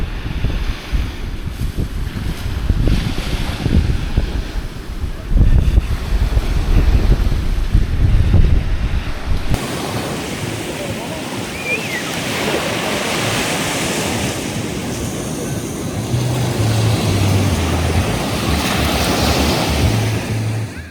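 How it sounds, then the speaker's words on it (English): Strong gusty wind buffets the microphone over steady breaking surf on a Maui beach, first in heavy rumbling bursts, then settling into a continuous wash of waves and wind. "It's gotten a little windy out there."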